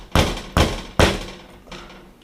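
A hammer strikes a 5/64 punch to drive out a Glock trigger pin, giving three sharp metallic blows at a steady pace close up and then a fainter fourth tap.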